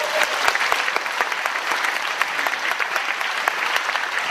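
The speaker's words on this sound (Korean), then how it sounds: "박수" A crowd at a political rally claps continuously, a steady, even wash of applause with scattered sharper hand claps standing out, no talking over it.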